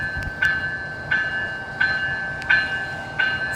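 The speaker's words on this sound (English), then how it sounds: "we just found this beautiful brand new CPKC train" A new CPKC freight train with a single engine and autoracks passes close by, its loud steady rumble punctuated by rhythmic clickety-clack wheel beats about every 0.7 seconds along with a high ringing tone.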